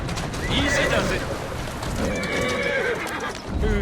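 A horse in the Assassin's Creed Syndicate video game whinnies loudly more than once while its hooves clip-clop steadily underneath, close and clear, with the game's background noise throughout.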